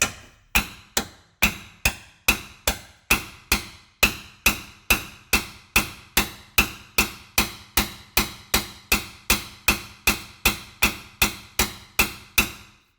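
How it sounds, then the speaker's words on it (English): A hammer strikes a seized bolt on a 2006 Subaru Outback front wheel hub bearing: about thirty sharp, ringing metal blows in a fast, steady rhythm, each clang decaying quickly, loud and close with no talking. "If you see sparks when you contact the bolt with your hammer, that is not abnormal."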